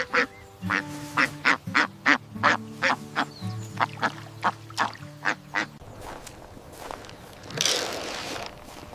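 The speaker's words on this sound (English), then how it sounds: "This is a duck." A duck quacks in a rapid series of about fifteen loud, close, evenly spaced calls, followed by quieter rustling and shuffling noises.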